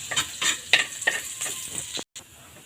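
Garlic sizzles and fries in a hot pan while a utensil stirs it in repeated strokes, close and steady, with a brief cut to silence near the end.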